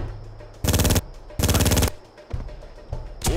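Bursts of automatic gunfire from the video game Made Man, two long loud rattling volleys followed by shorter scattered shots, with no talk over them.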